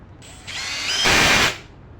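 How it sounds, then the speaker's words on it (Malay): A Milwaukee M12 FPD2 cordless brushless hammer drill on high speed drives a 1-inch screw, a close, steady motor whine that rises in pitch and loudness midway, then cuts off after about a second and a half. "untuk pengujian yang pertama saya akan ikat skru 1 inci menggunakan speed 2 high speed"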